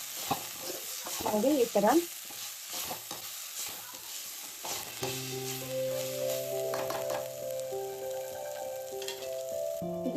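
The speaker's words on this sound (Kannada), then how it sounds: "ಇದು ಡೈರೆಕ್ಟ್ ಆಗಿ ಎಣ್ಣೆಯಲ್ಲಿ ಹುರ್ಕೋಬೇಕಾಗುತ್ತೆ." Cloves, cardamom, cinnamon, peppercorns and star anise fry directly in hot oil for mutton sambar, giving a soft continuous sizzle with stirring scrapes; a voice speaks briefly over it and a faint tonal hum sits underneath later.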